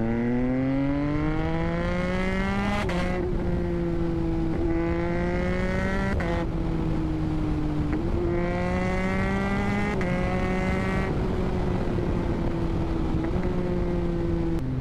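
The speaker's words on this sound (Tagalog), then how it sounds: "pina-titanium full system exhaust natin ang ating Z1000." A Kawasaki Z1000 motorcycle with a titanium full system exhaust revs and shifts through several gears, each pull rising in pitch before dropping at the shift, a loud, continuous engine note with no talk.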